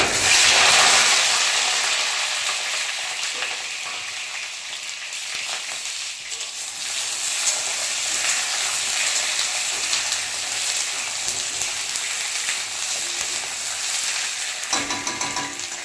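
Vegetables tipped into hot oil tempered with fenugreek seeds sizzle and fry steadily, a loud, close hiss that settles into a continuous crackle with a brief burst near the end.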